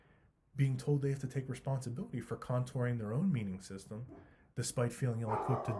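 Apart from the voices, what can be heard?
dog barking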